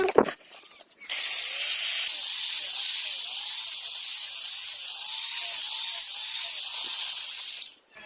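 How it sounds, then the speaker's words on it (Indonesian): A steady high-pitched whirring grind runs continuously after a brief start, a powered sanding machine working fine 2000-grit sandpaper against a machete blade at close range. "Ini bukan di gerinda tapi diasah pakai amplas menggunakan mesin"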